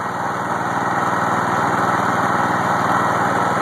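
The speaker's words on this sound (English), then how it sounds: "you heard the engine slow down just a little bit" A homemade DIY generator engine runs under electrical load, a steady loud buzzing drone with a fast regular firing rhythm, close and continuous with no talk.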